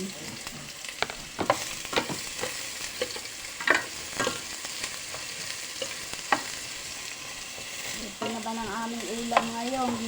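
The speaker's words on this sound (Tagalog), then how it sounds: "Ginigisa ko muna yung bawang, luya, at sibuyas." Garlic, ginger and onion sauté in a hot pan, sizzling steadily with repeated stirring and scraping clinks, close and alone with no talk.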